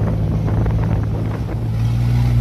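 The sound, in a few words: motorboat in strong wind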